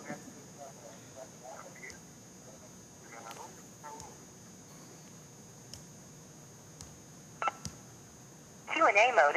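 Short electronic keypad tones from a phone on a conference call, a few brief beeps scattered across the clip, followed by a louder burst of tones at the end, with faint background noise between them.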